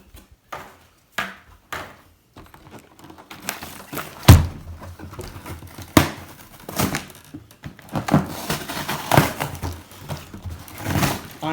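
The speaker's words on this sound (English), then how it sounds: "I'm just totally destroying this box." A cardboard box is torn apart by hand during an unboxing, with irregular ripping, crunching and thudding bursts that come faster and denser toward the end, close and fairly loud.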